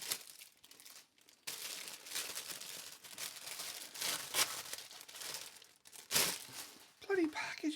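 Plastic packaging crinkled and torn open close by, in bursts of crackling and rustling with short pauses, alongside intermittent talk.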